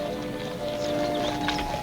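Horse hooves clip-clopping at an Old West town bank, steady and moderately close over a background of constant tonal hum, with no voices.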